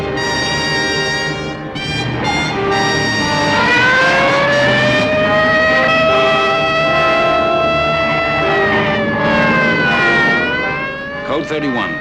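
A 1961 ambulance siren wails, rising and falling continuously for several seconds over traffic noise, fairly near, with voices talking underneath.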